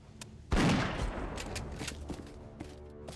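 Gunfire in the turn-based video game Warmachine Tactics starts with a sudden loud blast, then a rattling volley of shots fades and trails off into scattered quieter pops.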